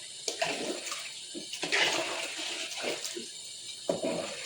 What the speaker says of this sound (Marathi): गरम उकळीचं पाणी केलेलं आहे तेच घालायचं आहे, त्यामुळे भाताची चव बिघडणार नाही